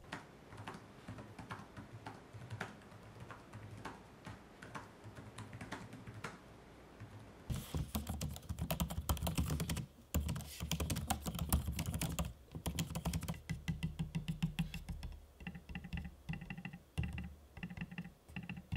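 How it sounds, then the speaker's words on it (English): Steady, close-up clatter of laptop keys being typed in quick bursts, joined by sharper, louder clicks from a trackpad partway through; no voices. "Here's an audio sample of me using both the keyboard decks and trackpads"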